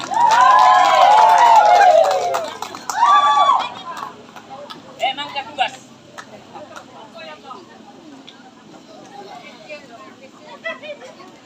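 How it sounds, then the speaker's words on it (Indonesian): Audience applause and cheering follow a church choir competition performance, with loud, dense clapping for about four seconds that fades to scattered claps and crowd murmur. "Kita beri tepuk tangan yang meriah."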